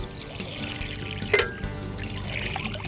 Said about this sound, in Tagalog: sumisirit yung tubig